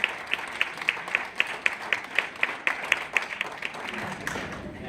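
An audience at a 2017 Kidney Foundation awards evening applauds in a hall. The claps come as a steady patter of sharp, moderately distant hits for several seconds.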